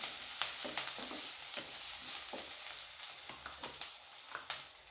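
Garlic fries in a pan for a bitter gourd dry fry, crackling and sizzling steadily while a utensil stirs with sharp scraping knocks at irregular intervals, close up and fairly quiet.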